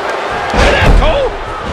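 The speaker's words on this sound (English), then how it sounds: "Did you hear how his leg connected?" A knee strike lands with a heavy slam in the WWE 2K15 wrestling video game, a dull thud over crowd noise while commentators talk.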